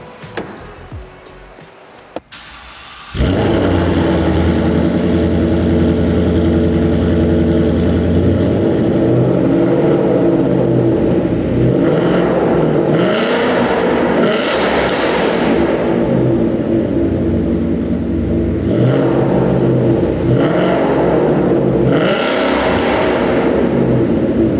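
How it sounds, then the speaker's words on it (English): A Ford car engine starts with a thud, then idles loudly with a deep ROUSH exhaust rumble, punctuated by several sharp revs. "The only thing that he had to have was a ROUSH exhaust"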